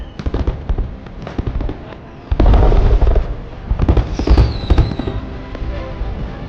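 Fireworks explode over a city in a string of sharp bursts and pops, including one heavy boom near the middle and a faint whistle later, loud against a background of crackle.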